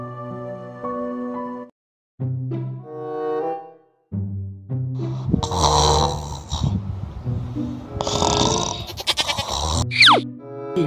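A goat bleats repeatedly and loudly nearby, its wavering, nasal cries coming in several bursts with short gaps and some grunting in between.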